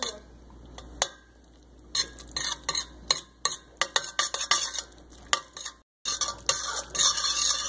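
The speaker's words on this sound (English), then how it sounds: "Make sure you stir it really good so all the butter melts" A spoon stirring mac and cheese in a pot, with close, irregular clinks and scrapes of metal against the pot coming in quick bursts, a brief pause, then more stirring with a faint sizzle underneath.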